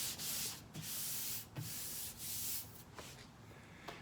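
Repeated strokes of a JTCAN 12-inch triangle sanding block across an auto body panel, a steady close abrasive rasp in long passes broken by brief pauses, with no talking.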